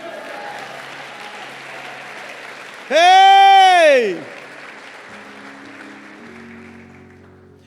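Church conference crowd claps and shouts, a brief loud burst of cheering and applause lasting about a second, followed by a preacher's voice and a quieter room.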